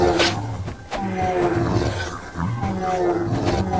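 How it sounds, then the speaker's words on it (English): A deep, growling ogre roar from the video game Might and Magic VI in Castle Darkmoor, in bursts, guttural and snarling, repeated several times in close succession. "That noise that you heard was the noise that ogres make."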